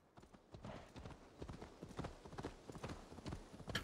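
Horse hoofbeats clop in a quick, steady galloping rhythm while riding in the video game Assassin's Creed Valhalla, close and fairly quiet throughout the short stretch.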